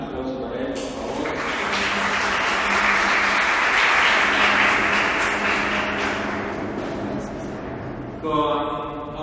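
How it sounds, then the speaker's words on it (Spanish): A room full of people claps for a guest, Augusto Costhanzo, at an open talk, broad sustained applause swelling and then easing, with a speaking voice heard faintly at the start and clearly at the end. "Un aplauso para él"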